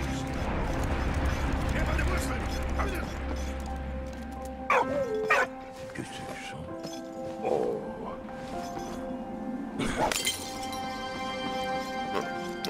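A dog barks and yips in the World War I video game Valiant Hearts: The Great War, with short barks and whimpers coming in bursts over a constant bed of game music and ambience.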